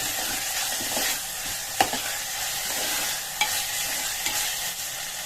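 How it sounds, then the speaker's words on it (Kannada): Tomatoes with potato and eggplant fry in a pan with a continuous soft sizzle, broken by a few sharp stirring scrapes, with no voices. "ಚೆನ್ನಾಗಿ ಫ್ರೈ ಮಾಡ್ಕೊಂಡಿದ್ದೀನಿ. ಈಗ ಟೊಮೆಟೊ ಹಾಕೊಂಡ್ಬಿಡಿ."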